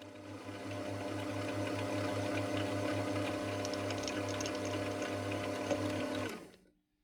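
A steel pin being drilled for a hole that takes a 2.9 by 4mm neodymium magnet, likely on a drill press: a steady, loud mechanical whir with a low pulsing hum that runs evenly for about six seconds, then cuts off.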